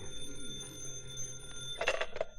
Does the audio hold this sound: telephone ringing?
yes